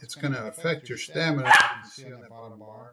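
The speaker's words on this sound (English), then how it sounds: "Sorry for the dogs barking." Dogs bark in the background of a home setting, a few short barks under steady nearby talking, with one sharper bark cluster in the middle.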